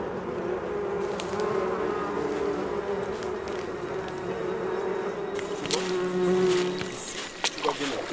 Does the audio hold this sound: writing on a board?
no